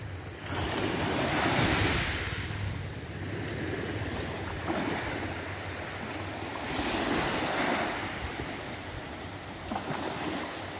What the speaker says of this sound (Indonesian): Deburan ombak yang tidak terlalu besar.